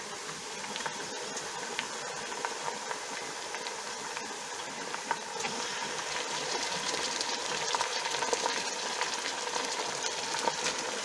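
Meat fries in hot oil in a kazan for Uzbek Navoi-style plov, a dense, steady sizzle with crackles and little pops continuing throughout.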